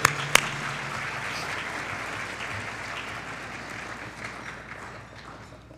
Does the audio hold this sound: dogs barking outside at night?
no